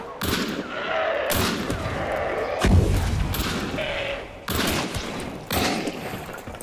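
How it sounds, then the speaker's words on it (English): Gunfire in the video game Hunt: Showdown, with several loud, sharp shots and bursts spread across the clip over a busy, noisy background. "Oh, there's gunshots in here."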